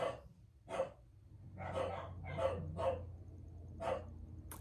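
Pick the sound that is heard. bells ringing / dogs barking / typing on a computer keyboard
dogs barking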